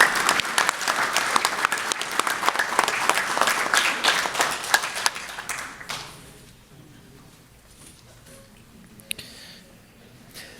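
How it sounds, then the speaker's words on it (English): Warm round of applause at a scouting district recognition dinner for Spirit of Scouting award recipients, dense clapping for about six seconds that fades out into a quiet room with a few stray claps. "Let's have one more round of applause for all of our 2023 Elm Fork Spirit of Scouting"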